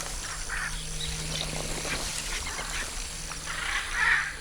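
A hyacinth macaw parrot in the Amazon gives several harsh, squawking calls over a dense, hissing forest background, with the loudest call near the end.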